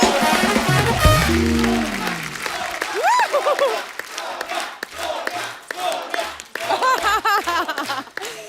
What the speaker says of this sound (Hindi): तो आप सबकी जोरदार तालियों के बीच इनवाइट करना चाहूंगा।